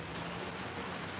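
Rain falls steadily on Heller Parkway, a brief, even hiss of drops on surfaces, close and moderately loud.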